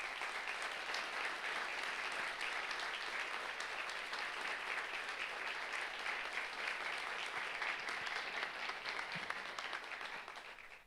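A church congregation applauds steadily during a sermon on the crucifixion of Jesus, with many hands clapping in a continuous, even wash for about eleven seconds before trailing off at the end.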